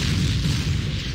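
A Panzer III tank's gun fires in Panzer Corps, a dense, loud booming blast that fills the whole moment with a deep rumble.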